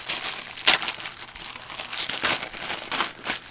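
Silver and olive-green camping duct tape crinkles and rips as it is handled and pulled from the roll, with several sharp tearing bursts over rustling.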